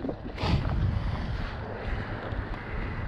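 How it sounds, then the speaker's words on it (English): A strong wind gust hits a fishing boat on Shasta Lake, roaring and buffeting the microphone with a sharp swell near the start, then easing into a steady rushing blow with water noise underneath. "That gust was off the hook, huh?"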